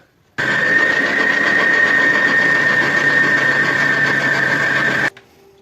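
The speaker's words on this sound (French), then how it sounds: "On va mettre au batteur" An electric stand mixer kneads msamen dough of flour and water, a steady loud motor whir with a constant pitch running about five seconds before cutting off abruptly.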